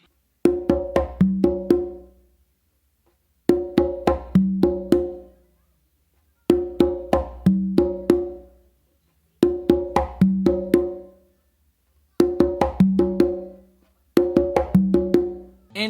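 A basic Makuta rhythm played on three congas, repeating phrases of several quick open and tonal hand strikes separated by short gaps, close and resonant with no voices.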